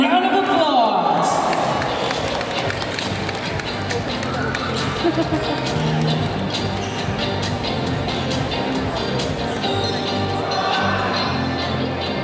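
An audience at a teen pageant sashing ceremony in Bacolod claps steadily and fills the hall with dense applause and crowd noise for several seconds, while an amplified host talks over it.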